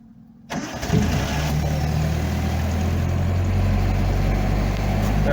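A 1985 Nissan 720 pickup fitted with a Weber carburetor and electric choke cranks briefly and catches, then settles into a steady, loud, close idle that holds for several seconds.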